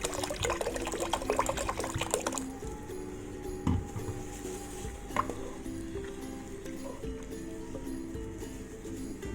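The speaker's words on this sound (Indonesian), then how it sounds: "Kita tambah lagi sedikit airnya, biar daun ubinya bisa empuk." Water is poured into a pot of cassava leaf gulai curry: a brief splashing pour at the start, then a quieter stretch of liquid movement, soft stirring and occasional knocks, heard up close.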